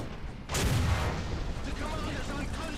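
A 3 Inch Gun Carrier in War Thunder takes a single sharp, loud hit from incoming fire, followed by a rumbling engine and battle noise; someone talks faintly underneath.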